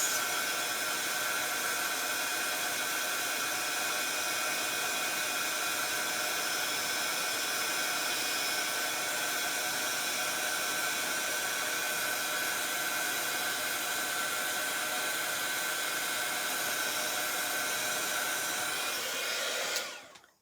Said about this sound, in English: I will just heat set this for you so you can see the difference.